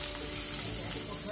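Onions sizzle steadily in hot oil with mustard seeds, a continuous, even frying hiss heard up close with a steady crackle and no break.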